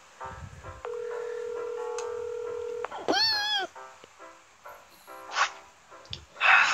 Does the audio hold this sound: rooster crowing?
no